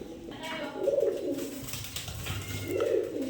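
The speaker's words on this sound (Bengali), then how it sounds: "এই যে পিছনেরটা মাদি কবুতর, সামনেরটা নর কবুতর।" A pair of Silver Punky pigeons, a hen and a cock, give two close, low, throaty coos with a quiet pause between them, while faint background noise and some indistinct voices sit underneath.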